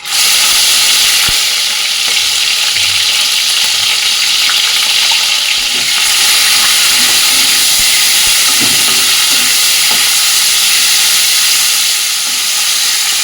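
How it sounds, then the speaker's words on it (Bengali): Chicken fries in white oil in a kadai with a loud, continuous hissing sizzle, close and steady, with occasional faint clinks and stirring underneath. "চিকেনটা আগে ভেজে নেবো"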